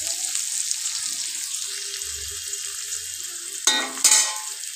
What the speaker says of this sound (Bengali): তেলটা গরম হয়ে গেলে তাতে আমি দিয়ে দিলাম পেঁয়াজ কুচি।